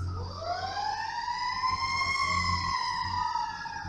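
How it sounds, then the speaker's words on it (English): A wailing emergency siren rises and holds steady, loud and continuous, with a low engine rumble beneath it. "I hear sirens."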